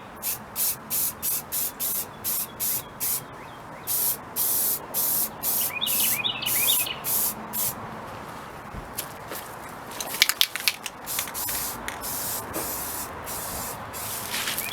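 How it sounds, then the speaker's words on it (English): Short bursts of aerosol spray paint hiss in a steady rhythm as a gun is painted, then longer continuous spraying, with faint bird chirps and a few clicks in the background. "just spray a nice light coat from, 6 to 9 inches away"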